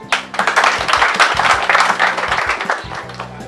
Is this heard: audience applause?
yes